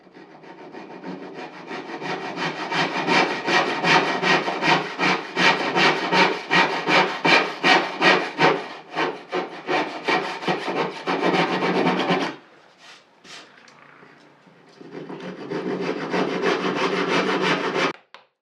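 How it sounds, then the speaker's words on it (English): A hand saw cuts wooden dovetails in quick, rhythmic strokes, close and loud, pausing briefly before a final run of steady rasping strokes. "it's now time to saw them out and to prepare each joint"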